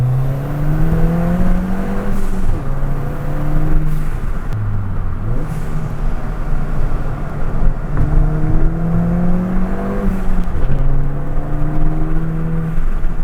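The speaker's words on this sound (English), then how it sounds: "you can still hear the induction noise. It's not too intrusive, this exhaust." Ford Fiesta ST with a newly fitted aftermarket exhaust, its engine droning steadily throughout with rising and falling revs in repeated pulls, induction noise audible beneath the exhaust note, no talking.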